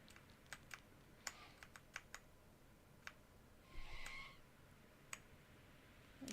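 Computer keyboard keys are pressed during gameplay, sparse crisp clicks scattered at irregular intervals, close but faint over a low background hiss.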